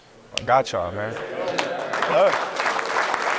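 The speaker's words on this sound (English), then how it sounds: "Y'all clapping, right?" Football players cheer and clap together in a team room before a Nebraska game against Colorado, the clapping building up under a man's loud, close talk.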